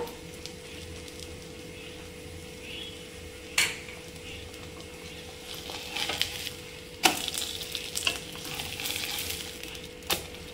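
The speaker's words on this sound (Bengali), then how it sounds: "তো এইভাবে আমি সবগুলো আলুর কুলচা ভেজে নিচ্ছি।" Aloo kulcha flatbread cooking in a ghee-brushed pan, a faint steady sizzle punctuated by occasional clatters and scrapes of a spatula against the pan, busier toward the end.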